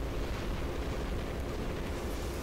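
Explosions in the War Robots video game, a continuous loud, rumbling blast with a heavy low roar that holds steady through the short moment, with no talk over it.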